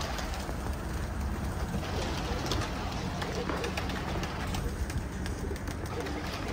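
Soft pigeon coos sound amid constant hissy outdoor noise near a house, with some voices in the background.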